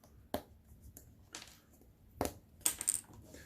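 Cardboard tokens are pressed out of a token sheet from a game starter set, giving a few sharp, separate pops and snaps close by in a quiet room.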